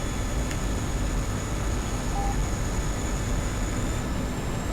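Steady broadband roar of a MiG-21bis jet engine spooling up in the DCS flight simulator, a constant engine drone filling the whole stretch without voices.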